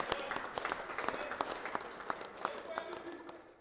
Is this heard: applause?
yes